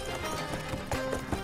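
A horse's hooves clip-clop in a quick, uneven series of muffled thuds, close by, over a busy background.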